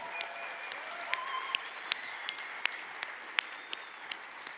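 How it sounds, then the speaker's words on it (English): Keynote audience at a tech conference applauding and cheering, a steady dense wash of clapping with sharp individual claps standing out, moderately distant and sustained throughout. "go ahead, cheer. Let me hear it."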